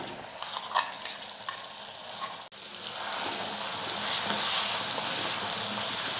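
Ground chutney is added to hot oil in a pan and fries with a steady, close hiss and sizzle, marked by a sharp crackle partway through as the mixture hits the oil.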